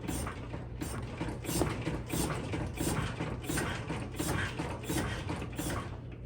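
A motorcycle front fork with a leaking seal, treated with Seal Mate, being pumped up and down against the held front brake, giving a steady run of close mechanical creaks, clicks and squeaks.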